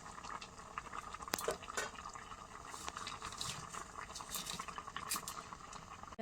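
Bottle gourd leaves boil in a pot over a wood-fired clay stove, giving a steady close bubbling hiss with small pops and crackles throughout and no voices.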